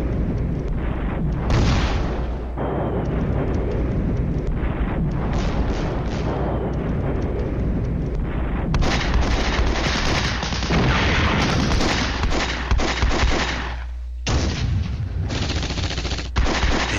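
Heavy 120mm tank guns fire in a wartime strategy game battle, loud booming shots and rattling bursts in quick succession, with brief gaps between volleys and no voices.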